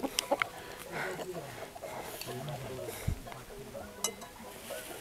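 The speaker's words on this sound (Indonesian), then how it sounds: "Ada ayam di sini yo, agak lucu memang." A chicken clucks nearby at a rest stop while hiking Mount Lawu via Candi Cetho, with a few short clucks scattered over a low outdoor background and a person talking.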